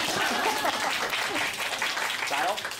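An audience at a science magic show claps for about three seconds in a dense, steady burst of applause, with voices mixed into the noise.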